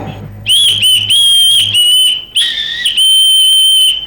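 A shrill whistle blown in sharp repeated blasts, then longer sustained notes with a brief warble, loud and close with a low hum underneath early on.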